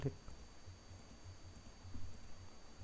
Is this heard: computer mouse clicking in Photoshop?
yes